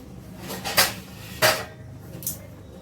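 A metal lid is set onto a cooking pot of carrot halwa, with two sharp clanks close together and a lighter clink after, each short and crisp against a quiet kitchen.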